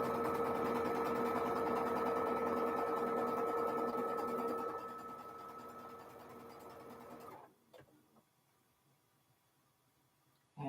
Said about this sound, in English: I do enjoy the hum of that sewing machine